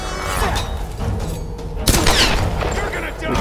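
Gunfire in Tomb Raider Definitive Edition, a handgun among booming shots and impacts, with a sharp blast near the middle over dense game action and noise.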